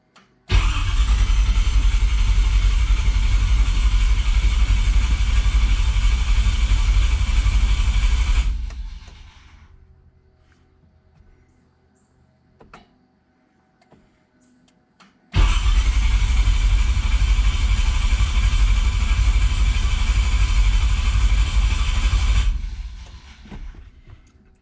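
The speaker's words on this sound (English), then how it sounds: "But let's just go ahead and see if this thing will start." A car engine fitted with Holley Sniper fuel injection cranks loudly and steadily for about eight seconds without catching, falls silent for several seconds, then cranks again for another long, even stretch.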